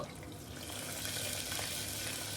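Green chili slits sizzle and crackle in hot ghee and oil inside a cooker, with whole biryani spices, a steady close frying hiss with no talking.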